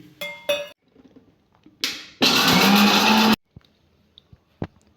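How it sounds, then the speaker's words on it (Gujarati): A mixer grinder crushes roasted makhana (fox nuts), whirring loudly for about a second in a short burst, with clinks of the jar and lid before and after. "દોઢ વાટકી જેટલા આપણે મખાના પણ શેકીને લીધા છે એને પણ ક્રશ કરી લઈશું"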